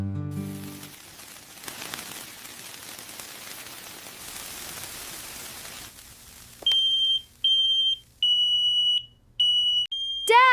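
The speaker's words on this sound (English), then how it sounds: "The alarm!" An indoor smoke alarm sounds a series of loud, piercing high-pitched beeps in a steady on-off rhythm, starting abruptly after a stretch of quieter room noise.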